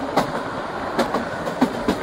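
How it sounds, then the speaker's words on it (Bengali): Kalka-Shimla toy train climbing into the hills, rolling with a close rumble and periodic clickety-clack wheel beats repeating roughly every half second. "আর ট্রেনটা মারাত্মক দুলছে"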